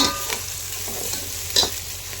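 Onions for biryani fry and hiss in a pan while being stirred, a close steady sizzle broken by a couple of brief scraping strokes of the spoon, with no talk.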